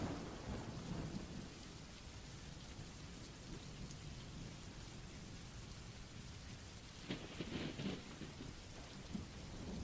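Rain falls steadily on the jungle around a campsite while thunder rumbles low and long throughout, with a brief louder crackle of heavier drops midway; no voices.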